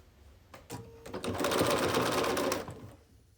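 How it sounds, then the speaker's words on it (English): A sewing machine stitches the final seam of a scrappy sampler quilt block in one steady, fast run of needle clatter that builds, holds for about two seconds and then eases off, close and alone. "you can just go ahead and sew that final seam"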